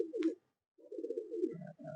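A black Ablook pigeon coos close and clear in a quiet setting: a short throaty burst, a pause of silence, then a longer rolling coo that dips lower before one final phrase.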